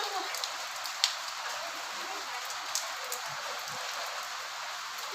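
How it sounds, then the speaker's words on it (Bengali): Steady rain falls on a surface as a continuous, moderately loud hiss, with a few sharper drops or taps standing out. Faint voices may sit beneath it. "বৃষ্টি ধরতেছে, বৃষ্টি ধরে"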